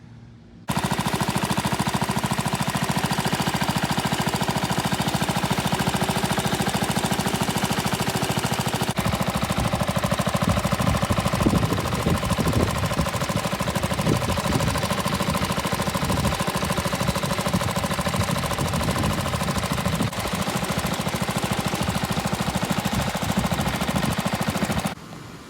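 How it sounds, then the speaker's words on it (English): A 54-year-old tractor engine runs close by, a loud rapid knocking chug that holds steady for over twenty seconds, with a slight shift in pitch partway through and no talking. "I'm so proud of this little tractor, have it going"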